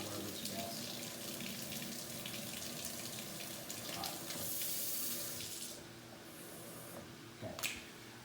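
Cold water runs steadily from a kitchen tap in a home kitchen while gravy is being made, a continuous close hiss that cuts off near the end, followed by a brief clink.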